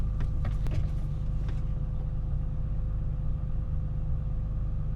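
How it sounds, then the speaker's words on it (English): A BMW E28 M5 with individual throttle bodies idles steadily, a low, even, faintly lumpy rumble close by, with a few brief mechanical clicks early on and no talking. "Really pleasing idle too."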